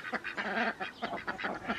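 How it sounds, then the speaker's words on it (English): Ducks quack and honk in a busy, close cluster of calls, overlapping calls coming in quick irregular bursts without any talking. "Are you sat with your ducks?"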